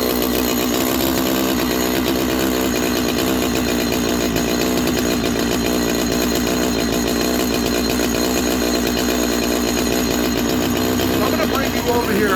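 A Holzfforma G255 chainsaw engine idles steadily during carburetor tuning, giving a continuous loud buzzing drone that holds through the whole stretch.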